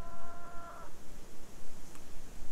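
Chickens outside in the cold snow give a brief, thin clucking call near the start, then only faint outdoor hiss and rumble remain.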